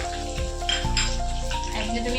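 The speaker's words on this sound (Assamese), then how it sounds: "আলু ভাজি বহাই দিছোঁ, পিঁয়াজ ৰঙা কৰিছোঁ।" Potatoes frying in a pan alongside onions being browned, a steady sizzle running under a continuous musical or voiced background with harmonic tones throughout.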